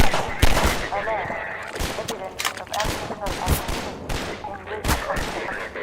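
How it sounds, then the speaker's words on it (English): Video game suppressing gunfire: rapid irregular bursts of loud, close shots crackling in clusters, with game voices and chatter mixed in throughout. "I'm trying to help him by laying down suppressing fire."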